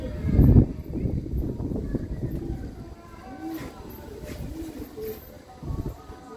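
Pakistani silver bar pigeons in a breeding setup give soft, low rolling coos, several rounded calls rising and falling under someone talking nearby, with a brief thump near the start.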